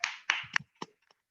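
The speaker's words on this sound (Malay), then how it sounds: "Tepukan." A few people in a communication course session clap briefly, giving four or five sharp, close hand claps and then a couple of fainter taps before falling quiet.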